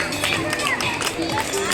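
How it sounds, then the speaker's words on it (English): An audience at a primary school prize distribution claps in a steady patter of many hands, moderately loud and continuous, with faint chatter underneath. "A big round of applause."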